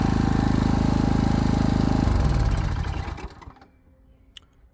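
A portable generator engine that runs but gives no electrical output drones loud and steady with a strong low hum, then falters and winds down after about two seconds, fading to near quiet with a faint click at the end.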